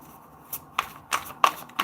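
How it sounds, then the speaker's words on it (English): Tarot cards being shuffled by hand, a series of short riffling bursts at a quick, slightly uneven pace, close to the microphone. "I will be now shuffling my cards for your weekly reading"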